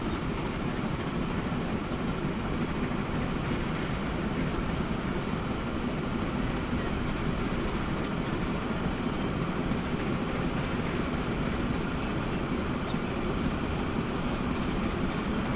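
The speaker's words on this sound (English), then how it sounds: "And ride the train over to Athens." A freight train on a mainline freight route in the video game Transport Fever rolls on in a continuous, even rumble with steady wheel and engine noise and no talking.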